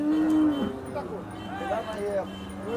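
A Khillar cow at the Sangola cattle market gives a loud, drawn-out moo, followed by a few weaker bellows over steady crowd murmur and background voices.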